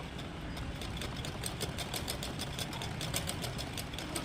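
A sewing machine runs continuously at a steady, rapid rhythm while stitching frills on a frock, a faint mechanical whir with regular ticking stitches throughout.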